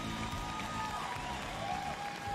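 A large crowd at the Bethesda E3 2018 showcase applauds and cheers for Todd Howard, a broad, distant wash of clapping with tonal music or stage sound running beneath it.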